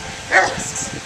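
A Rottweiler gives one short bark close by, a quick single burst amid light background noise.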